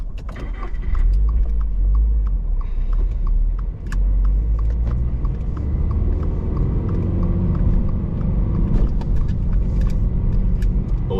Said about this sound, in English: This car sounds amazing. This car is completely bone stock, and I love the way it sounds as is.